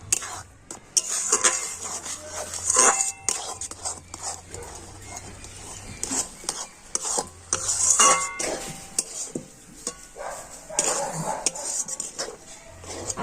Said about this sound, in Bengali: আমি এইভাবে নাড়াচাড়া করে একটা ডো তৈরি করে নেবো